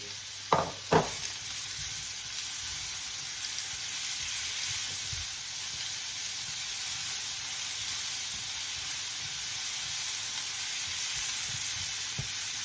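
Mushrooms stir-frying in hot oil, a steady broad sizzle and hiss running the whole time, with a couple of sharp utensil clacks near the start, close and fairly loud with no talking.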